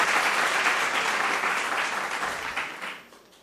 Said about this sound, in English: A round of applause for both teams,